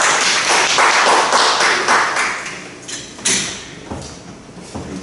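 Applause from the audience at an academic conference session, loud and close at first with busy clapping, then thinning and fading as a few last claps trail off.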